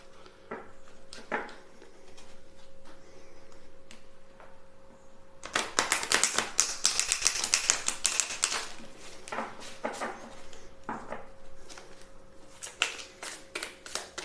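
Tarot and oracle cards being shuffled by hand, a soft papery riffling and patter that swells into a dense flurry midway, then settles into lighter intermittent card flicks, close and quiet with no talking.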